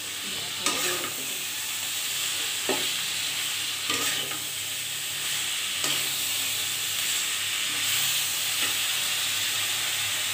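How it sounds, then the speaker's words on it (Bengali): Snake gourd sizzles steadily in a hot pan for a village-style fry, with a few sharp spatula scrapes spaced a couple of seconds apart over the constant hiss of frying. "চিচিঙ্গাটা দিয়ে দিয়েছি, নেড়ে চেড়ে"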